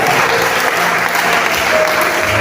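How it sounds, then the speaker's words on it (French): A church congregation applauds and cheers in praise, a dense, steady wash of clapping and voices that holds at full strength from start to finish. "Donne des acclamations au Père."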